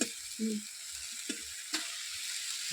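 Pigeon meat dropping into ginger-garlic spice paste frying in oil, with a steady close sizzle broken by a few short scraping and stirring knocks.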